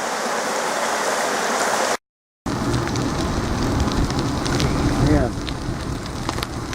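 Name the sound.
Taki waterfall flowing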